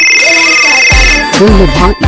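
A phone ringtone for an incoming call plays loudly and close, a steady high-pitched repeating melody, while someone talks over it in bursts in a Bhojpuri comedy scene.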